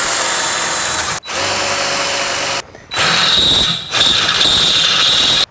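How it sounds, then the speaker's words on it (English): A power drill with a 1/4 inch bit bores into a steel Jeep frame rail, a steady high whine in bursts broken by short pauses as the bit bites into the metal. "I'm gonna first drill the hole with a 1/4" drill bit"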